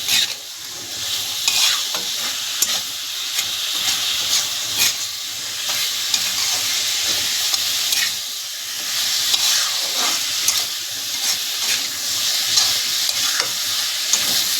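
Fish curry with salt being stirred in a frying pan, a steady broadband sizzle with repeated scraping strokes of the spoon throughout, close and fairly loud, no talk.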